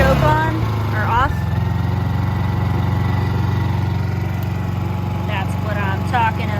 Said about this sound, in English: See, that's a good Honda generator.